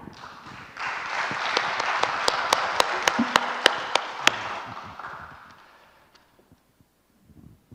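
An audience at a church special gathering breaks into applause, a dense burst of clapping with a few sharp, distinct claps standing out, lasting several seconds before it fades away to near silence.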